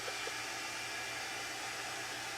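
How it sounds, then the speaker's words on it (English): A vacuum cleaner drones steadily in the background while a BNSF and MILW switch engine is worked nearby, a constant broadband whoosh with no talk. "Pay no attention to that vacuum cleaner in the background."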